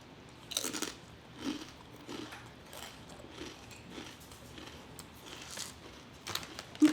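Keto chips with barbecue flavor, puffy and Dorito-like, bitten and crunched up close in a series of sharp bites followed by steady chewing, with no talking.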